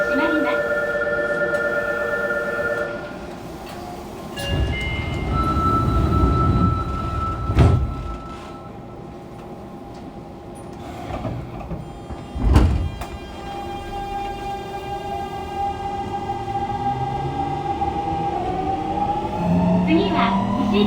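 A Fukuoka City Subway 2000 series train, set 23, with a late-type Hitachi GTO-VVVF inverter and an abnormal noise, runs under manual operation. Its inverter whine rises and falls over steady rumbling, with occasional loud clunks and onboard announcements.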